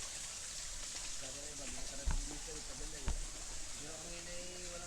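Stream water runs in a steady broadband rush through a channel designed to filter out leaves, with voices talking over it now and then.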